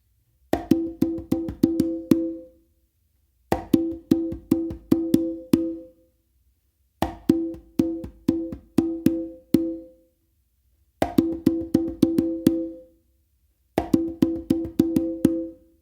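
Congas playing a funk 3 in 1 pattern with slaps and open tones, five repeated bars of crisp rhythmic hits separated by short pauses, close and clear with no talk.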